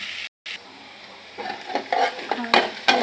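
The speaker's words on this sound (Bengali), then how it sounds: "এখন আমি নামিয়ে নিয়ে মশলাটা কষিয়ে নেব।" Spice paste being sautéed in a pan after frying bitter gourd, with a spatula scraping and stirring in irregular strokes over a soft sizzle, close and fairly loud, no talking.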